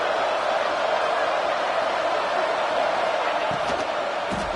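Stadium crowd in a college football video game featuring Ole Miss, a steady dense roar of cheering fans filling the background at a constant level.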